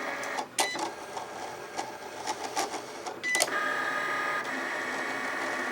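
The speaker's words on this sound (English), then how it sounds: "So it's scoring our box now." Cricut Explore machine scoring a cardstock treat box, with a close mechanical whir and clicks as the carriage moves, settling into a steady motor hum.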